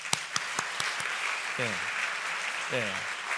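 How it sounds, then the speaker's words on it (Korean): A seminary chapel congregation gives worship volunteers a brief burst of scattered claps that quickly fade, after which a voice speaks over the room's quiet background. "우리 그분들에서 박수 한번 하겠습니다."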